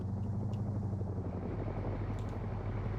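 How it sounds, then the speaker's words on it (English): An aircraft in a video game flies overhead, a steady droning engine rumble with a rotor-like pulsing low end that holds fairly loud and constant for a few seconds, with no speech. "They hear the aircraft though."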